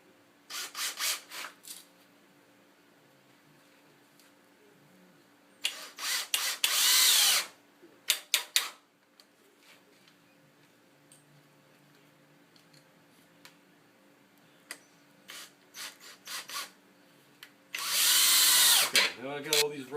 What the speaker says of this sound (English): now that I've got all these pre-drilled, I'll just go through and screw them down